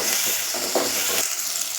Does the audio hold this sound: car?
no